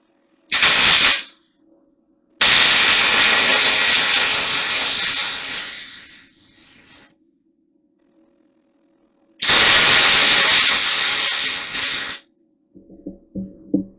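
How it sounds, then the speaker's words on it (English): Welding on a Kawasaki KZ400 motorcycle street tracker/cafe racer build: loud, steady crackling hiss in three bursts, one short and two long, with quiet gaps and a faint low hum between them. "Just get this thing welded."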